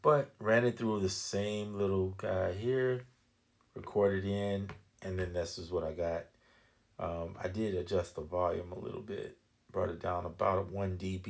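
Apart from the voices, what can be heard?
No everyday noise stands out behind the speech.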